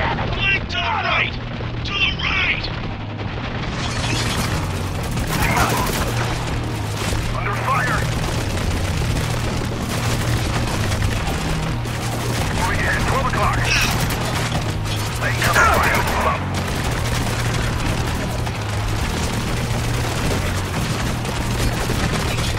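Turret gunfire in the video game Spec Ops: The Line, with loud sustained automatic bursts and mechanical clatter on a bridge level, joined by shouting voices.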